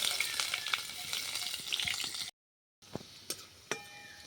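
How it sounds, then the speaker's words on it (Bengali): Dried chili, whole garlic and onion frying in hot oil in a kadai, a dense close sizzle that cuts out briefly, then returns quieter with a few sharp spatters and pops. "শুকনো লঙ্কা, গোটা রসুন আর পেঁয়াজ ভালোভাবে ভাজা হয়ে গেছে।"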